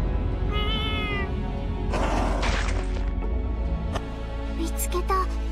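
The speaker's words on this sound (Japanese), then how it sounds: "黒猫ちゃん、黒猫ちゃん、危ない。" A black cat in Little Witch Nobeta meows several times with rising, tonal cries among crashing and smashing game effects, all over a constant low background of music and noise.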